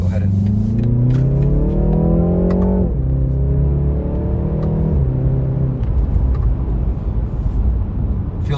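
A 2020 BMW 330i with a 2-liter turbo pulls hard from a stop, its engine note climbing steadily through the revs, dropping at a shift and rising again before easing into steady cruising noise inside the cabin.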